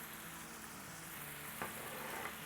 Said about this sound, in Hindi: तो अब इसमें हम डालेंगे तली हुई प्याज